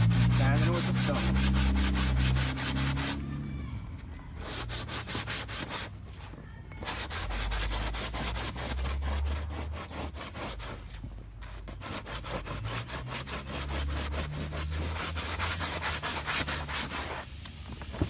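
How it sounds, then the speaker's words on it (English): A stone is rubbed hard across stretched raccoon leather, giving a steady rasping, scraping texture with a few brief pauses, close and continuous. "Now all I'm doing is just grabbing it, stretching it, and sanding it with the stone."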